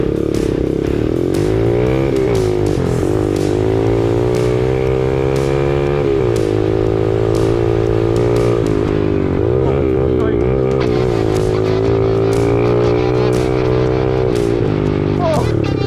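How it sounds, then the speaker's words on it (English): A Lifan 110 mini dirt bike engine runs loud and close throughout, its buzzy tone rising and falling as the throttle is worked on and off. "we're on a little old Lifan 110 my buddy Evan owns"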